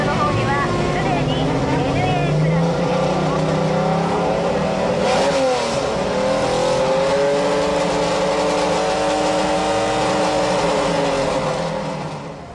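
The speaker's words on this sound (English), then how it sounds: "The fastest NA car was this 260Z, which was still using carburetors instead of fuel injection." Carbureted Datsun 260Z, naturally aspirated, drag racing at Sendai; a loud engine revs and climbs through gears with a sweeping pitch, heard nearby and fading slightly at the end.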